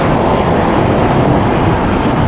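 Airbus A320, 27 years old, taking off from LAX runway 25 right, a loud continuous engine roar filling the scene, steady and close with no breaks.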